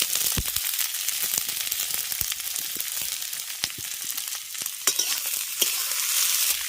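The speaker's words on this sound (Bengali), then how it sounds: "পেঁয়াজটাকে এক মিনিট ভেজে নেওয়ার পর দিয়ে দিচ্ছি কেটে রাখা কুঁদরিগুলো" Chopped ivy gourd (kundru) tossed into oil with onion that has fried for a minute, crackling and sizzling briskly, with dense irregular spatula clicks and scrapes, close and loud, no speech.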